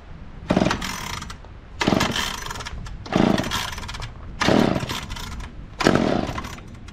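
A McCulloch Mac 10-10 two-stroke chainsaw is pulled over again and again, five separate bursts of rattling, sputtering engine noise, each about a second long, with brief quiet gaps between them, close by and loud.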